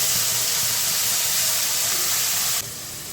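Spice paste frying in a pan with cardamom, cinnamon, cloves and cumin for soya chap: a loud, close, continuous broadband hiss that drops abruptly in level just before the end.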